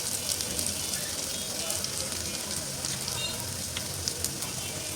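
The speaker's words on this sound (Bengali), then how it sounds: "এই তো পেঁয়াজগুলো আমি ভেজে নিচ্ছি।" Onions fry in a pan with a steady, even sizzle and crackle throughout, fairly close and moderately loud.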